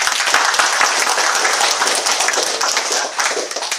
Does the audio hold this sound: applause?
yes